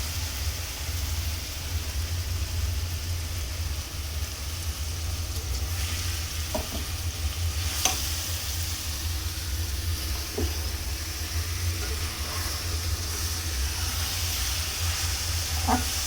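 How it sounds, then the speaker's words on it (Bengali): Sweet pumpkin fries in a pan with a steady, soft sizzle and hiss, marked by a few faint stirring clicks and taps, close and continuous throughout. "দিহানের লেগা একটু মিষ্টি কুমড়া ভাজি করতেছি"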